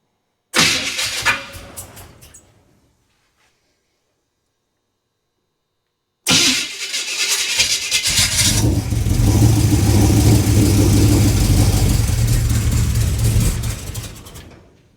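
A Chevrolet 327 V8 engine cranks briefly and cuts out, then after a pause fires and runs rough with a loud uneven rumble before dying away.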